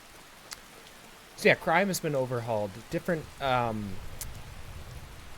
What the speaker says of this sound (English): So, man, this rain, a little noisy.